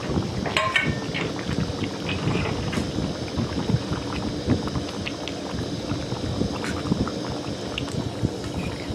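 Chital fish curry simmers in a pan, a steady low bubbling and hiss that runs on unbroken and fairly close, with no voices.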